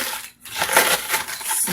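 Dry bread being whacked and crushed on a heavy-duty cutting board, a run of close, crunchy crushing impacts after a brief pause, with no talk.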